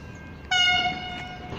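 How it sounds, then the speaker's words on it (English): V/Line express train passing through South Geelong, sounding a loud sustained horn blast that starts abruptly and holds for about a second over a low rumble of the train. "Here comes the Express through South Geelong."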